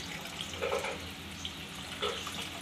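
Water poured into a fish and potato curry, a soft splashing pour with a few gentle surges, faint and steady without any talking.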